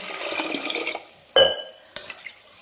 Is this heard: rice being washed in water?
yes